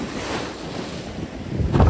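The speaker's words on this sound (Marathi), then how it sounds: "लाटा बघू शकता कसले मोठे आहेत एकदम" Big sea waves surge around a small fishing boat out on the open sea during traditional rapan net fishing. Heavy wind buffets the microphone over a continuous rushing wash of water that swells louder at the end.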